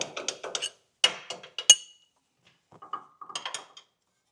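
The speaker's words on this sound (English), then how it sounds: "Let's see if I can get a pry bar under there and get that to wiggle off." Sharp metallic clinks and scrapes of a pry bar prying off a steering part on a first-generation Toyota Tacoma come in short clusters, then a pause and more tapping and grinding of metal on metal, close and fairly quiet.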